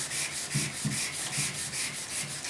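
Light hand sanding with sandpaper on the tailgate of a 1972 Ford 4x4 pickup, close rhythmic scratchy strokes repeating about every third of a second, steady and moderately quiet, no talking.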